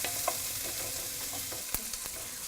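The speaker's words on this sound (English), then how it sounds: "we're going to let this go until the speck has become soft and is starting to exude some of its fat and is beginning to get a little bit crispy" Speck crisps in a pan with a steady, fairly quiet sizzle, punctuated by a few sharp pops and light utensil taps.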